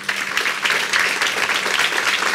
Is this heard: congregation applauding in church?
yes